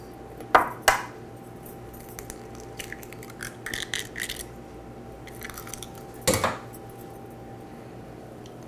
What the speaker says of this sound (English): we're going to take a wooden spoon and we're going to push our flour to the edges of the bowl